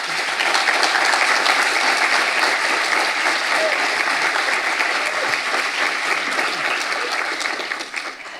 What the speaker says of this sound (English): So a big round of applause for all of you.